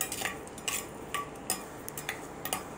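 Candy being stirred in a hot pan, a utensil clinking and scraping against the metal in quick, regular strokes, close and alone.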